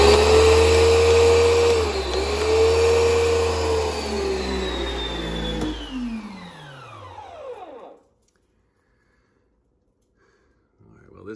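A budget complete garage pressure washer system runs with a loud, steady motor whine and pump drone, its pitch wavering, then winds down and falls silent as the machine shuts off.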